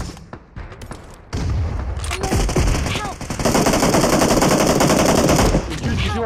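Heavy machine-gun fire in the video game PUBG Mobile rattles in long, loud sustained bursts after a few scattered opening shots, with players talking in Turkish over the shooting.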